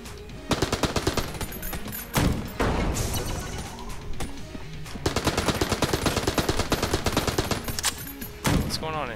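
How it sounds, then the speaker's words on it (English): A Tommy gun submachine gun in Enter the Gungeon rattles off long rapid bursts of loud, evenly spaced shots, broken by a couple of brief pauses and heavier impacts. "Submachine gun. There's my Tommy gun."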